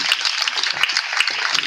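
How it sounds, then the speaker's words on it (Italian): Brief burst of audience clapping on an Italian television special, bright and evenly sustained for under two seconds without speech over it. "Un applauso, grazie."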